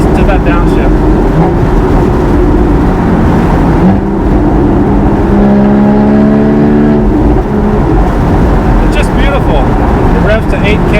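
A Porsche Boxster Spyder engine downshifts with sharp blips, then revs and pulls hard, loud and close from inside the car. A voice talks over the engine in places.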